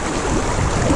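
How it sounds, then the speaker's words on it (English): Fast-moving water of the Credit River in Ontario makes a steady, loud, broadband rush throughout, with no voices. "I'm going out into the Credit River. It's moving really quickly today."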